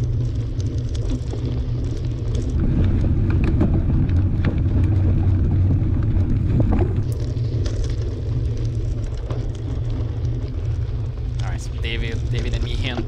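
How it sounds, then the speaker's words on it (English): Steady wind buffets the microphone during a SoCalCross cyclocross race at MoVal, a loud continuous low roar with faint voices now and then underneath. "Yeah, it was windy that day, so it was really windy."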